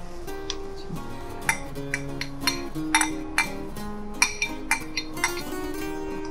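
A spoon clinks against a cooking pot as papaya is stirred for pulao, sharp metallic taps arriving in an irregular rhythm over a faint background with a little music-like tonal hum.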